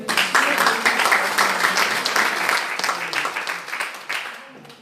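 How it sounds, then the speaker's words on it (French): A theatre audience at a storytelling evening in Tunis applauds a singer being introduced, a dense, steady wave of close clapping that fills the room and tapers slightly toward the end, with faint voices mixed in. "Applaudissez."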